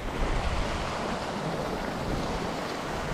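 Water pouring over the spillway of the Pacoti reservoir dam, a steady, loud broadband rush with wind buffeting the microphone, continuous and close with no voices.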